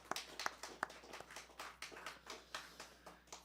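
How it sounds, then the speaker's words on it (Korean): A church congregation claps together in a steady, even rhythm, roughly three claps per second, sounding faint and slightly distant in a quiet hall. "우리 삶에 언제나 기쁨을 주신 하나님께 영광의 박수 올려드립니다."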